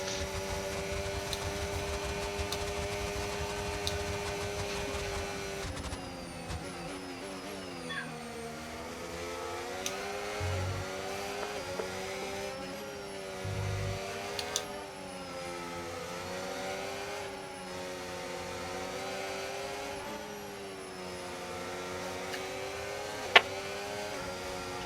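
Racing engine of a Formula 1 car in the F1 25 video game at Suzuka, a steady sustained drone with shifting pitch as revs rise and fall, continuous throughout with brief clicks near the end.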